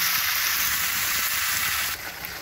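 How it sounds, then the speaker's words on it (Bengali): Marinated chicken sizzles and fries steadily in a hot pan, a dense continuous hiss with faint stirring, close and fairly loud, with no talking. "ম্যারিনেট করা মাংসগুলো ভালো করে কিছুক্ষণ নাড়িয়ে চাড়িয়ে নিয়ে নেব, যাতে মশলাগুলো এর মধ্যে যায়"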